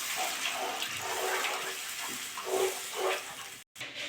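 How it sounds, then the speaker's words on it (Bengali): Water is poured into a frying fish curry masala, a sustained watery sizzle and splash that lasts several seconds with a short break near the end, close and moderately loud, with no talk. "মশলা দিয়ে তেল ছেড়ে গেছে, আমি এবার জল দিয়ে দেবো।"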